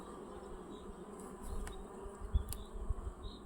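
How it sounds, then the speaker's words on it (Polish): Soft, continuous buzzing of many honeybees flying around apiary hives outdoors in late March in the Low Beskids, fairly faint, with a few closer passes humming by. "We wszystkich ulach są pszczoły."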